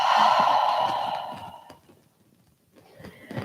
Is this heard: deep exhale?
yes